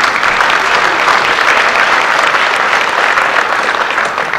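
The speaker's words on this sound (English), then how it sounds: "Let's give him a round of applause." Loud, sustained applause from a crowd at a basketball Hall of Fame induction ceremony, a dense, even roar of clapping that continues unbroken.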